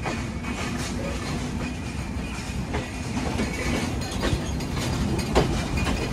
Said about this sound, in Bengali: দূরে আমাদের ট্রেন ছোট্ট একটা কার্ভ নিয়ে বেরোচ্ছে